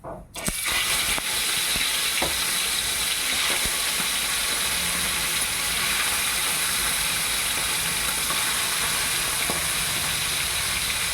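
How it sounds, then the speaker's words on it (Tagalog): Steady, bright sizzling hiss of small fish frying in hot oil in a pan, continuous and close, with a few faint clicks and knocks in the background. "Prito tayo na fish, mga palangga."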